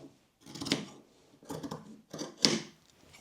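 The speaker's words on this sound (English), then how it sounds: "So I'm basically just cutting off that little hem at the end there." Scissors snip through the hem of an old cotton T-shirt in three separate bursts of close, crisp cutting, each a quick cluster of blade clicks, with quiet pauses between.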